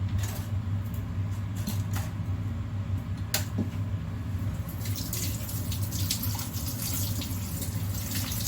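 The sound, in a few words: tap water running while washing chicken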